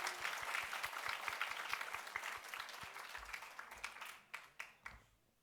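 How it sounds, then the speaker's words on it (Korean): A church congregation claps for its middle and high school youth group after a worship dance: steady applause that thins out into a few last scattered claps at the end, with a low rhythmic thump underneath. "다시 한번 우리 중고등부 격려의 박수를 해주시면 좋겠습니다."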